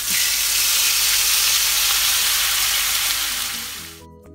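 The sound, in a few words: stir-frying spice paste in pan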